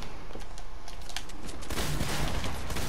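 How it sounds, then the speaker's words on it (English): Rapid gunfire in the video game Fortnite, a dense crackling burst of shots that grows heavier toward the end, loud and up close with no talking. "Why are you shooting at me?"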